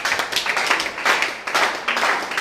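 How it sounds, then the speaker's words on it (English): A church congregation claps, loud rhythmic bursts of many hands in quick succession, sustained throughout with brief dips between waves. "clap for Jesus Christ."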